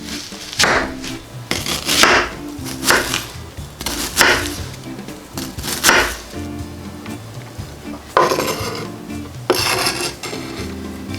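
Half an onion is cut on a board in a kitchen, a series of rough, rasping strokes in an irregular rhythm, close and fairly loud, with short pauses between bursts.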